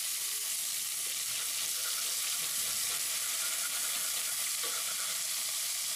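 Ginger and green chili paste fries with a spoonful of asafoetida in hot oil, giving a steady, even sizzle and hiss that holds at a constant level throughout, with no voices.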